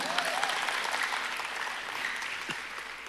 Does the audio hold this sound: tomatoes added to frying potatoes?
no